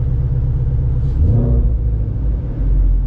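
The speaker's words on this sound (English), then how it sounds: "Got that engine note, which is incredible." A 2019 Ford Mustang Shelby GT350 with a six-speed manual gives a loud, deep, continuous engine rumble that swells slightly partway through, with no talking.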